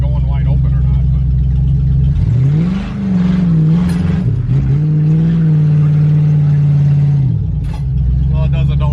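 A 500 cubic inch big block Cadillac engine in a G body car roars loud and steady through a donut, its low drone holding and rising in pitch as the throttle is worked, with a brief dip midway.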